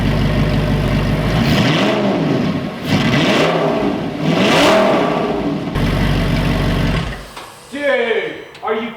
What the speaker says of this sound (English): I'm gonna give it a couple small revs